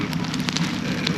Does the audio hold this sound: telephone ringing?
no